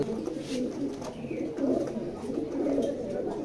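Soft, low cooing from racing pigeons, a mated male and female pair, carries steadily and fairly close throughout against a faint background hum.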